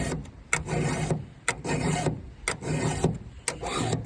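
A hand file is drawn over the teeth of a chainsaw chain in a run of about five even rasping strokes, each a gritty scrape with a click at the start, close up and alone.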